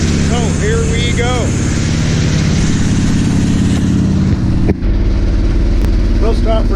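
Classic farm truck running without a muffler, a loud, rough, continuous low engine roar filling the whole stretch, with a brief dip near the end and some talk layered underneath.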